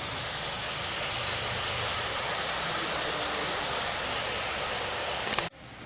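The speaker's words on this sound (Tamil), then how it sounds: "எண்ணெயோட சலசலப்பெல்லாம் அடங்கி பூந்தி நல்லா வெந்து வந்துடுச்சு" Kara boondi batter fries in hot oil over a medium flame, giving a loud, steady, close-up sizzle that runs unbroken for several seconds before cutting off abruptly near the end.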